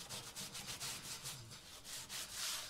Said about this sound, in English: So you sand a little bit all the back so the back of the guitar is soft.